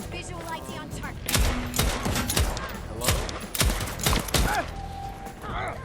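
Pistol gunfire in the video game Deathloop: a series of sharp, loud shots in uneven bursts, some close together and others spaced apart, with game ambience filling the gaps.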